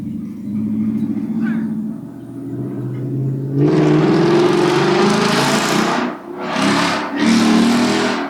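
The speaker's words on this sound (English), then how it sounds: "That Mustang's loud, man." A loud Ford Mustang engine roars nearby, starting after a low rumble and surging in several strong revving bursts with brief dips between them.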